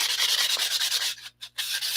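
Sandpaper rubs up and down a rod in steady back-and-forth strokes, close and loud, with a brief pause near the end before the rasping resumes.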